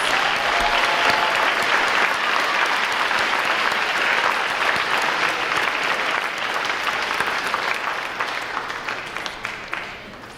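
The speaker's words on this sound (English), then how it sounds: "let's give group 2 a round of applause" Sustained audience applause fills the room at an eighth-grade awards ceremony, a dense, even roar of many hands clapping that holds steady and then gradually thins and fades toward the end.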